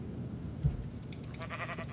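A sheep in Minecraft (Tekkit) lets out a single short bleat near the middle, over a steady low hum, followed by a quick series of game clicks and tones.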